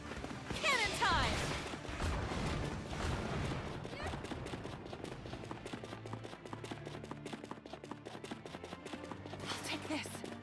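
Cannon fire in the video game My Hero Ultra Rumble, a burst of loud booming blasts and crashes at the start, followed by continuous dense game action and music with chaotic impacts throughout.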